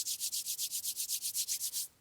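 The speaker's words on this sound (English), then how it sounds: "rubbing your palms together to create some energy" Dry hands rub briskly together in a steady back-and-forth rhythm, about a dozen quick swishing strokes close up, alone with no talk, during a yoga flow.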